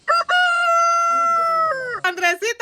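A person imitates a rooster crowing, one loud drawn-out cock-a-doodle-doo held for over a second, then breaks into short laughing bursts.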